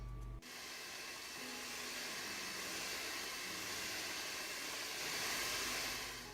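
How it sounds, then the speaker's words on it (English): Electric hand beaters whir steadily through poppyseed cake batter, a continuous loud motorized hum with hiss that starts abruptly and holds for several seconds, close by, with no talking. "I'm going to mix this a little bit first with the spoon, the spatula, and then I'm going to use the beaters."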